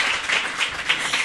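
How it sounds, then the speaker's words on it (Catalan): Audience applause at a live Catalan podcast recording for International Women's Day, a steady wash of many hands clapping that swells and dips slightly across a short burst. "Que teníem aplaudiments"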